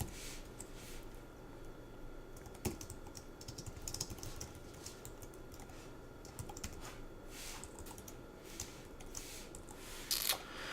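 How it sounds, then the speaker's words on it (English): Computer keyboard typing runs steadily through the whole stretch, dense clusters of keystrokes at close range with a few sharper taps and a brief louder burst near the end, with no talk. "let me just type here for a second"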